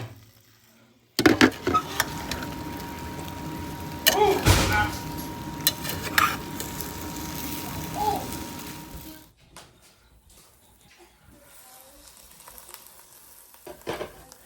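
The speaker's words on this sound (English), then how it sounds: "I'm just gonna give them a stir. And I'm gonna put the lid back on." Sausages (brats) and potatoes are stirred in a crock pot, with a steady wet sizzle-like churning and scraping for several seconds before the lid goes back on, leaving a quieter, softer tail of faint clinks.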